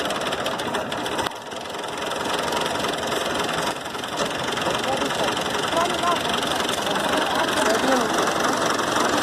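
A tractor engine runs steadily with its PTO shaft turning a 2020-model wheat thresher, a loud continuous mechanical drone with rattling knock, while people talk nearby over the machinery.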